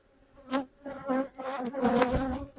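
Honey bees buzz around an open hive while it is checked for honey stores, a close, humming swarm sound that rises and falls in several swells with no talk over it.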